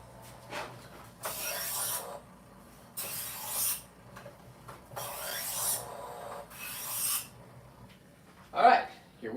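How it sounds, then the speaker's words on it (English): A knife blade is drawn repeatedly along a sharpener before a halibut is cut up, four or five distinct rasping strokes in a steady rhythm, close by and moderately loud, with a brief sharper scrape near the end. "let's sharpen the knife real quick"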